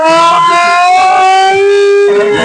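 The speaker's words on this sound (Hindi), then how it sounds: "गाड़ी पर सायरन रख दिया गया है। अभी कुछ ही क्षणों में इसको बजाया जाएगा।" A civil defense siren mounted on a vehicle wails loud and close during an air-raid mock drill at the Krishna Janmabhoomi in Mathura, holding one steady rising tone throughout.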